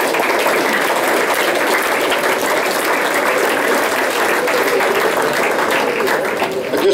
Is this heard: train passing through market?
no